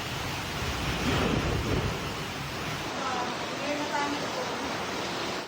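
Strong wind gusts roar with heavy rain pouring in Barangay Sumbakil, Polomolok, South Cotabato, a dense, loud, steady wash of broadband noise with deeper rumbling buffets near the start.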